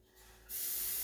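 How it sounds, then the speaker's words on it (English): A short hiss of cooking spray, a soft faint start then a steady pressurized spray, close up. "I'm just going to spray."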